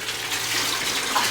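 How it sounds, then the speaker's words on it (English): Fresh water hisses and splashes steadily from a leaking carbon filter pot aboard a sailing boat, a continuous close trickle with no voices. "Carbon filter pot's been leaking."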